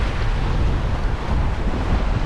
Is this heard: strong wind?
yes